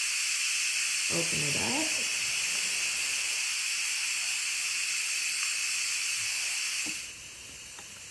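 Instant Pot pressure cooker releasing steam, a loud continuous hiss running steadily throughout and easing slightly near the end, with a voice speaking briefly over it.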